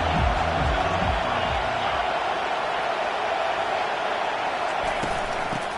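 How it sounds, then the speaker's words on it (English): A college football stadium crowd roars and cheers in a loud, steady wall of noise that barely rises or falls across the whole stretch. "This crowd trying to show them what it's going to be like all day in this house"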